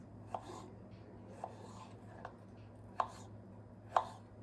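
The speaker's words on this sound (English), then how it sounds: "I'm just going to go ahead and take a small paring knife and go straight down the flesh of the pear" A small paring knife dices a pear on a cutting board, giving four soft, evenly spaced taps against quiet background hiss.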